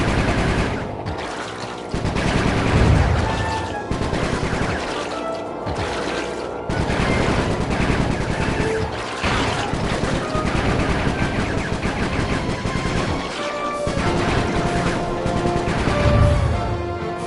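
Rapid bursts of gunfire from the Sly 3 video game, loud and continuous, with repeated automatic volleys and impacts layered over game music and effects, no speech.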